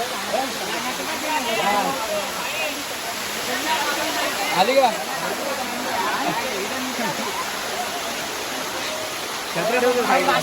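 Water pouring down the Malanggad waterfall in a dense, steady roar, with people talking over it throughout.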